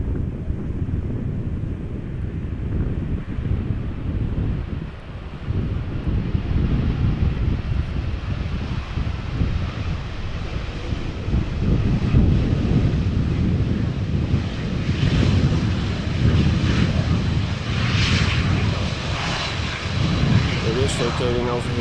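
An airliner from Copenhagen arrives in a crosswind at Amsterdam Schiphol Airport, its engines a loud continuous roar mixed with heavy wind buffeting on the microphone for over twenty seconds.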